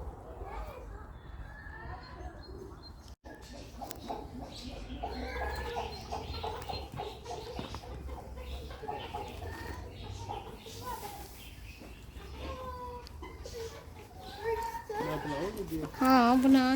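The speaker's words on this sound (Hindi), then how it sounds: "ये मुर्गियाँ कितनी प्यारी हैं" Chickens, a white hen, a black hen and a rooster, clucking softly amid park ambience in London, mostly under continuous nearby talk, with background children and birds, and louder clucks near the end.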